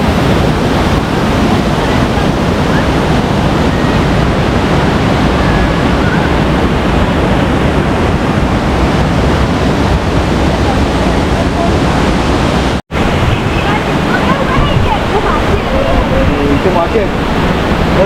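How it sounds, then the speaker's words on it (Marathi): A large waterfall beside Dhutpapeshwar temple near Rajapur roars as a loud, unbroken rush of falling water with wind buffeting the microphone, cut only by one momentary dropout. "मंदिराच्या बाजूला वाहणारा खूप मोठा धबधबा"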